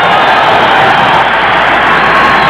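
A loud, dense crowd at a 1980 USA vs Cuba amateur boxing match roars and cheers continuously, urging a boxer on.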